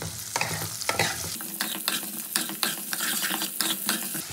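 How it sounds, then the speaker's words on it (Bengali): Potatoes frying in oil with turmeric and salt, a steady close sizzle broken by clinks and scrapes of stirring. "দিয়ে দেবো একটুখানি নুন দিয়ে আলুটাকে খুব ভালো করে ভেজে নেবো আমি"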